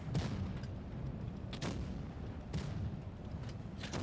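Tank cannon shots in a tank video game, several sharp booming blasts spaced a second or so apart over steady low engine rumble, loud and close.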